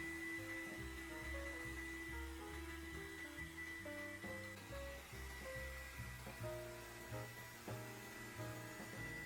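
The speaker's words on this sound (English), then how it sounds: "Turn on the hairdryer and move it along the window track." A hair dryer blows dust out of a window track, a steady close-range continuous whirring roar with a high whine, its pitch wavering slightly as it moves along the track.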